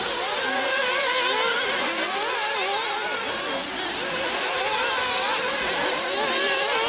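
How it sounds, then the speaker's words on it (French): A loud, whining race car engine roars steadily close by during a Grand Prix final in Montpellier, its pitch wavering up and down as it revs, with no voices. "Allez, Michel, attention, la deuxième voiture avance"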